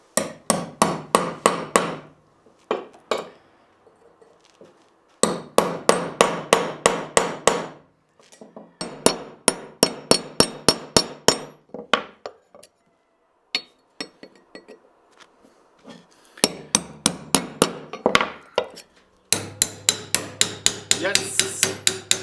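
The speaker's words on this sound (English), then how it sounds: "Next step is to hammer through the remaining connecting parts between the holes." Sharp, ringing hammer blows strike a metal axe head in rapid rhythmic bursts, separated by short pauses, close and loud with a metallic clink, breaking through material between drilled holes.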